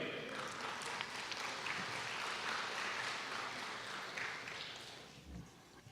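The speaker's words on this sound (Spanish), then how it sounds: "les doy un aplauso para él" Audience applause at an inauguration ceremony, a dense wash of clapping from a crowd that holds steady, then fades toward the end, fairly distant and moderately loud.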